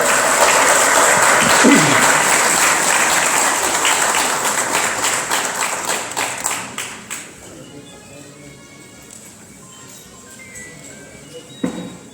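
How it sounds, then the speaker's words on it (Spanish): Audience applause fills a hall at first, then trails off into scattered claps and quiet room noise, with voices briefly heard beneath. "Un aplauso para vos."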